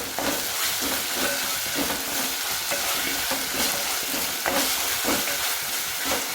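Ginger garlic paste sizzles and fries with onions in a pan for vegetable pulao, a loud continuous hiss broken by scraping stirs throughout.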